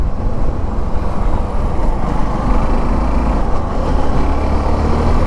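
Suzuki V-Strom SX 250 motorcycle ridden through city streets, a loud steady low engine drone mixed with rumbling road and traffic noise throughout.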